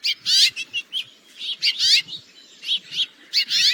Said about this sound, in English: for your calls, it's actually just kind of a buzzy kind of